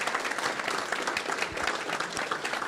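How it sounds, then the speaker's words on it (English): Steady applause from an audience honouring a group of students, dense and continuous clapping at moderate distance throughout, with no talking over it. "Let's give a round of applause to our students."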